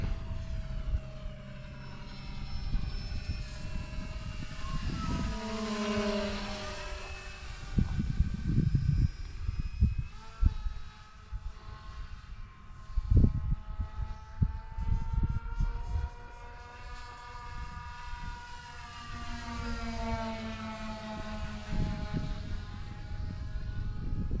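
A balsa wood model airplane flies at half throttle, its propeller motor holding a steady buzzing whine that rises and falls in pitch as it passes, with gusty wind rumble and handling knocks close by.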